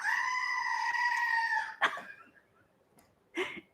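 A goat bleat sound effect: one long, steady, nasal bleat lasting under two seconds, then a short rough burst, a pause and another brief sharp cry at the end.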